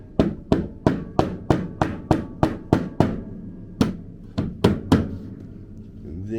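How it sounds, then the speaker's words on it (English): Sharp, hard wooden knocks from a mallet striking piano parts during a home repair, about a dozen evenly spaced blows, then a pause and a few more strikes, close and fairly loud. "mallet time"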